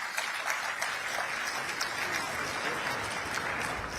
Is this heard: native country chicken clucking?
no